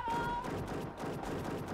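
Rapid bursts of DBR Cobra gunfire in the CrossFire shooter game, a dense, continuous fusillade of loud shots filling the moment with no pauses.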